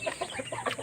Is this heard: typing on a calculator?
no